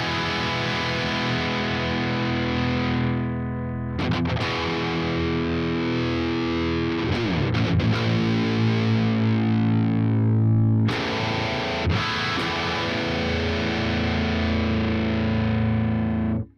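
Heavily distorted electric guitar runs through an amp plugin with a noise gate, playing loud sustained riffs with brief choppy breaks, for a fighting game song, with no talking over it.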